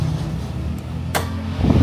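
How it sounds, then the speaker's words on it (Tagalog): A small electric fan built into an e-bike, a 2024 NWOW EMC-Golf, whirs in a steady low hum, with a short sharp hiss of air and a louder rustle at the end; nobody speaks. "May electric fan!"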